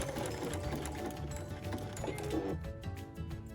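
A sewing machine stitching appliqué along the edge of fabric runs in a fast, steady mechanical whir close up, slowing slightly near the end as if easing around a curve.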